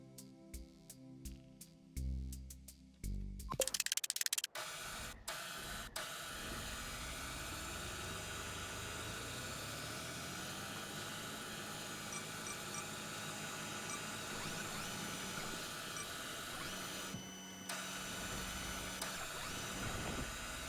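Reaction control thrusters on a rover in the game Mars First Logistics, a steady low mechanical hum droning on continuously after a burst of clattering noise at the start.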